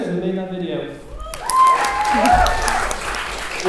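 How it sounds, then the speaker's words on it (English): After a speaker talks, a convention panel audience breaks into a round of applause that swells and continues under mixed voices and cheers. "Could we have a round of applause, please, for TheLostNarrator who made that video?"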